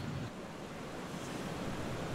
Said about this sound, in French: C'est pas la mer, c'est la rivière.